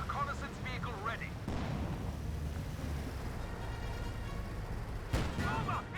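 A landmine detonates in a Company of Heroes 2 match, a low rumbling blast set within a continuous bed of distant artillery and battle noise, with someone talking over parts of it.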